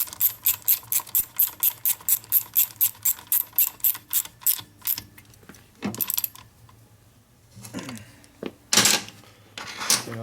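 Close, loud ratchet clicking in quick regular bursts as bolts are tightened on a 1992 Harley FXR Evolution 88ci engine during assembly, with a short pause and then a few more scattered ratchet strokes and tool clatter.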